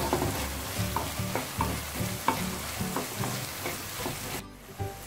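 Beef with turmeric powder sautéing in a pan for a Kuttanadan-style beef roast, with steady frying sizzle and repeated rhythmic stirring scrapes close up, ending in a brief near-silence.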